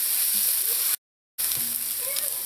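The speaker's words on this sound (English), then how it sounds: "Now you don't want the garlic to burn, you just want it to saute until it starts to turn a golden color." Garlic and pimento sauté in a hot pan with a steady close sizzle, broken by a brief silent gap, with faint stirring scrapes.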